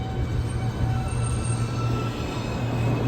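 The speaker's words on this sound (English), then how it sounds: "Yeah, the L train." An NYC subway L train at the 8 Avenue & 14 Street station gives off a steady low rumble with a sustained tonal hum and faint high whine, continuous throughout, with no voices.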